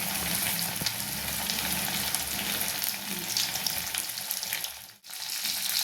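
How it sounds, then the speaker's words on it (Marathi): Coated bangda mackerel fish frying in very hot oil, a steady dense sizzle and crackle throughout, close and loud, briefly dipping near the end before resuming. "आता यात मी हा बांगडा तळायसाठी सोडते"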